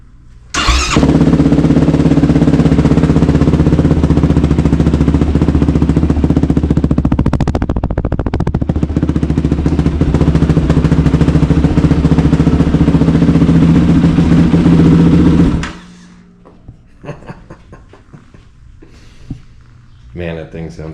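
A 2023 Kawasaki KLX110R pit bike engine catches and runs loud and close for about fifteen seconds, with a rough, throbbing idle and a brief rev in the middle, then shuts off, followed by faint clatter.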